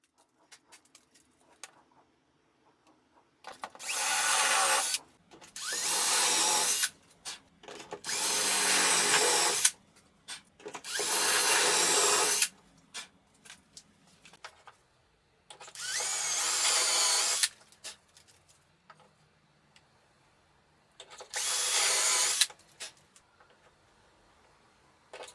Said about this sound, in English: I drill the holes for the other shelves on the other side of the bookcase